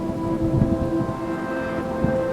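Thunderstorm with rain: steady rain hiss with low rolling thunder rumbles, alongside a sustained tonal hum, with no voices.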